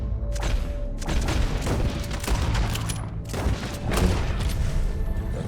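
Rapid bursts of gunfire in the video game Red Dead Redemption 2 crackle continuously, with booming shots layered over one another in a dense, loud barrage.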